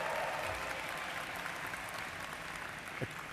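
A commencement crowd cheers and applauds for the university football team ahead of a championship game, a steady wash of clapping hands from many people filling a large hall, with scattered whoops throughout.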